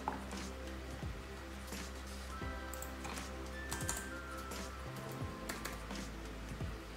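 Someone types on a computer keyboard in steady, light clicks. A faint continuous background hum sits underneath and no one speaks.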